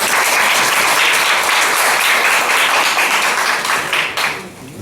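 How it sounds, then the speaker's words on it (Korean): A seated audience at a summer camp forum breaks into sustained, dense applause, loud and even for several seconds before tapering off near the end. "박수 부탁드립니다."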